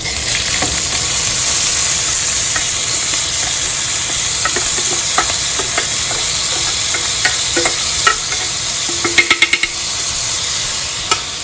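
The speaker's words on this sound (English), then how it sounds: "I just want it to fry a little bit till golden brown or light brown" Rice for chicken biryani frying in a pan on medium heat sizzles loudly and continuously, with a spoon clicking and scraping against the pan at uneven intervals throughout.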